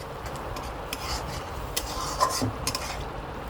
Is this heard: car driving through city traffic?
no